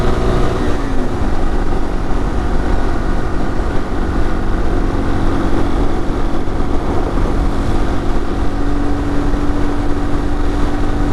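A Yamaha XT225 motorcycle cruises at about 50 mph, its engine a steady hum buried under loud, continuous wind roar with no break in the sound.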